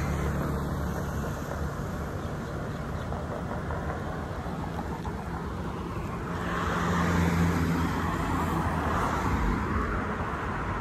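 Cars pass along a road on an evening walk, a steady engine rumble and tyre noise that swells as one vehicle goes by nearby, with no talk.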